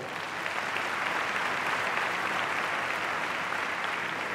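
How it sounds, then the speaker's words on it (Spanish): Sustained, even applause from a large audience at a debate event, thick and uniform at moderate loudness from start to finish with no break. "un aplauso para todos, por favor."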